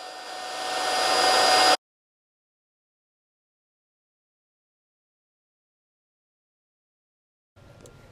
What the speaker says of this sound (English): To blow the pool up, I used an electric pump.